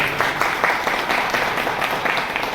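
An audience at a business network event claps steadily for a couple of seconds, a fairly loud, even patter of many hands without voices.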